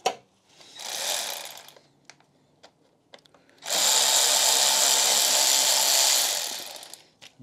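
A power tool loosening a Jubilee hose clamp on a BMW power steering reservoir: two sustained whirring bursts, the second longer and louder, separated by scattered clicks and clanks, close and without talk.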